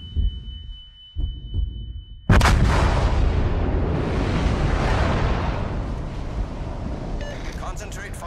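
Heavy naval gunfire from warships in World of Warships: Legends breaks out suddenly after a quiet stretch, a loud booming roar that rolls on continuously with rumbling explosions to the end.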